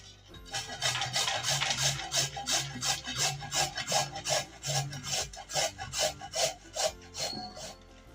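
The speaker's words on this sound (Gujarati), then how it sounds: "આ રીતના આપણે ગાજર ને છીણી લેવાના છે બધા" Carrots halved and rubbed against a large-hole grater for carrot halwa make steady, rhythmic rasping strokes, about two per second, close and clear with no talking.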